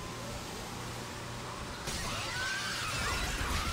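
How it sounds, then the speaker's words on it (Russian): A window breaks in the Dead Space 2 video game, a sudden crash of glass followed by scattering shards and a lingering hiss over low ambient hum. "Ага, то есть ты можешь разбить окошко"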